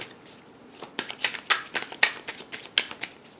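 Tarot cards handled, shuffled and drawn during a reading, crisp close flicks and slaps of card stock in an uneven run of quick snaps.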